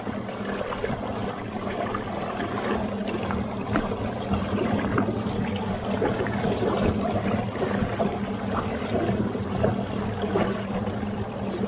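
A 12V trolling motor overdriven on a 24V battery churns through water, a steady broadband wash of splashing and propeller hum holding level throughout, with no voices.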